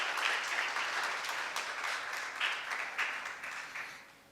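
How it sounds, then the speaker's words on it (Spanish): A church congregation applauds during an Easter sermon on the resurrection, a burst of many hands clapping at moderate level that swells, then tapers off toward the end. "Dale un aplauso al Señor, por favor."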